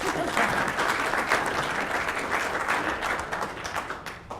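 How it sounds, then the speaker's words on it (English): A room of people at a legal association event give a round of applause for volunteers, dense steady clapping that slowly thins toward the end. "Round of applause for our volunteers."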